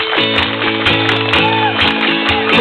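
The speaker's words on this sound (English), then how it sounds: "Everybody clap your hands" Children clap their hands together at a Robins Week 6 Friday show, loud irregular claps over bright music.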